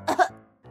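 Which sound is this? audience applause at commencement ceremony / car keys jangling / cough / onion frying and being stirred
cough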